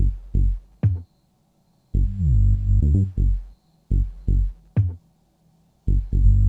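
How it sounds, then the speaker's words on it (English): Deep synth bass notes and low tom hits with falling pitch play in short bursts separated by silent gaps, loud and alone, forming a halting groove. "if we just listen to the bass and the low tom"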